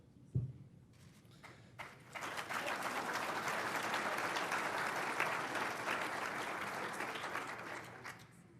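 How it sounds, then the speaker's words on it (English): Audience applause for award recipients at a 2019 AUSA professional development forum, opening with a thump and a few claps before a large hall fills with sustained, even clapping that tapers at the end. "One more round of applause, please, for our award recipients."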